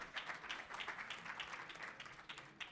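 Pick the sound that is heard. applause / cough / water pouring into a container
applause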